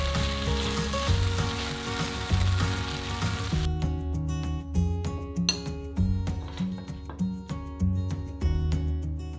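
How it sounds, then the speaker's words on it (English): Beef chunks sizzling and browning in hot oil in a pan for Indonesian beef rendang, a loud continuous fry that thins out partway through, with occasional light clinks of utensils against the pan. "the beef in the hot oil and cook for 5 to 6 minutes, turning a couple of times until it's browned"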